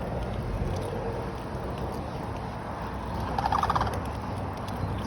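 Wild turkeys gobble in a burst of rattling calls at moderate distance outdoors, rising over a steady background hiss.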